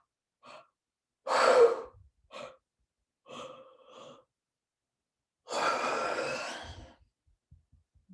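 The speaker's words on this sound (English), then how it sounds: "I'm going to tap for a second and just breathe." Slow, deep breaths out, two long audible exhales with a few shorter breaths between, close and quiet in an otherwise silent room.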